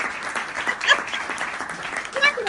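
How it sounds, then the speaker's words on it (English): An audience applauds a superfan's mother at a live comedy show, a steady crackle of clapping throughout with a voice speaking over it and rising to brief louder peaks near the end. "Clap it up for Alicia Mama."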